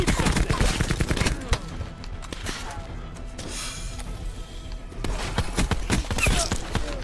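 Call of Duty: Black Ops 4 gunfire in the Firebreak specialist campaign mode: rapid bursts of shots crackle loudly at the start and again toward the end, with a quieter stretch of scattered noise between.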